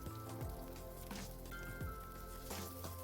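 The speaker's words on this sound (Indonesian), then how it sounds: "sekarang kita masukkan bawang putih sama jahenya ya" Garlic and ginger sautéing in hot oil with shallots already fried, a steady close sizzle and crackle with faint utensil clinks, no talking.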